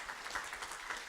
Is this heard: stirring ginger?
no